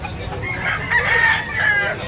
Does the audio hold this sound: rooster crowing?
yes